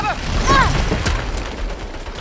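Turret gunfire in the Saints Row video game, a dense, continuous rattle of shots and impacts throughout with a brief vocal exclamation at the start.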